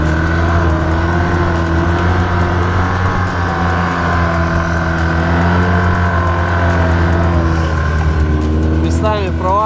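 A car driving over crusted snow on a March trip, its engine giving a loud, steady drone that holds throughout, with a rising whine near the end.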